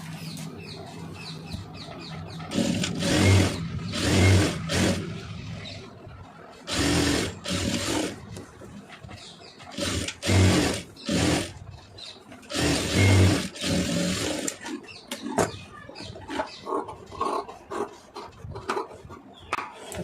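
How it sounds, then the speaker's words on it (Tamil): A sewing machine stitching a sleeve seam in repeated runs of rapid mechanical chatter, close and loud, separated by short pauses and handling of fabric. "அதே மாதிரி நம்ம இந்த பக்கமும் தையல் போட்டுருவோம்"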